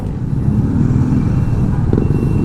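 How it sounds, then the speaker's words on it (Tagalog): Heavy, congested road traffic on a Friday near Fields Avenue in Balibago, Pampanga: a loud, continuous wash of car and engine noise close by, with no one talking. "Ito, napaka-traffic."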